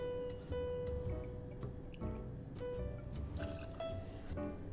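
Aperol trickles into a cocktail glass or mixing tin at a bar, a soft, brief splash and gurgle heard close and faint against quiet room noise.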